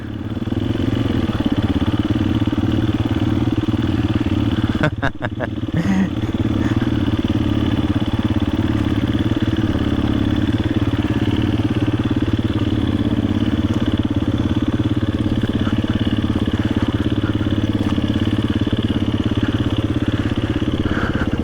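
A motorcycle engine idles steadily and close by, a low mechanical rumble that holds throughout with a brief clattering disturbance early on.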